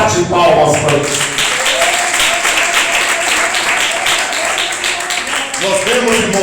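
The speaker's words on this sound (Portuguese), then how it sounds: "Bate palmas para isso." Congregation clapping hands together during a church sermon in Irajá, a dense, steady wash of applause filling the room for several seconds with voices mixed in underneath.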